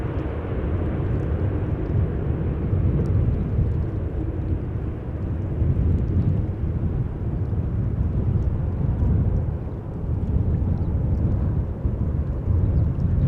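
A Boeing 747 lands at Amsterdam Schiphol Airport, a loud, continuous deep roar of jet engines and rushing air that holds steady for the whole stretch with slight swells, no voices over it.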